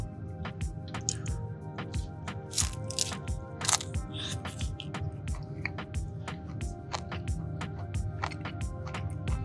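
Someone bites and chews a Doritos Locos Nacho Cheese taco from Taco Bell, giving a steady run of close, crisp crunches with wet chewing between them and no talk.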